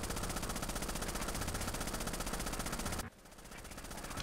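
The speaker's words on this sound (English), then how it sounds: "This thing's so annoying, the freaking machine gun." A machine gun in the video game Rainbow Six: Vegas 2 fires in a dense, continuous burst for about three seconds, loud and close, then cuts off abruptly, leaving a rising background hum.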